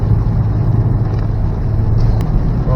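A 2019 FK8 Honda Civic Type R being driven, its engine a steady, close, loud drone with road roar underneath, no pauses or talking.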